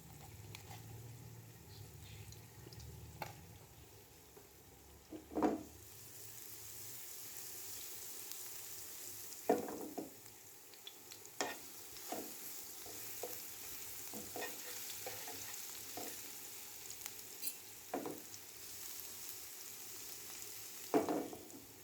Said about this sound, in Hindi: पालक के लिए मैं तड़का रेडी करने लगी हूँ, जिसके लिए मैंने ऑयल ले लिया है पैन में। अब इसमें डालूंगी लहसुन